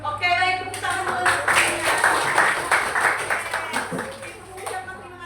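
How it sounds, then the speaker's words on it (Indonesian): A class applauds with a dense patter of hand claps that runs throughout, joined by overlapping voices. "tepuk tangan dulu"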